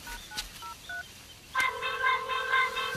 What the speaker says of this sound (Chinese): 啊，是谁的手机响